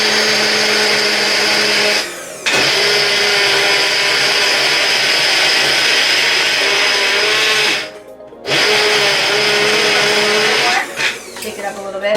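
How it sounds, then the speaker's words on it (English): A small Bella blender grinds oats into flour with a loud, steady whir, cutting out briefly twice and sputtering near the end as it stops and starts again. "I'm gonna blend this up in my cute little Bella."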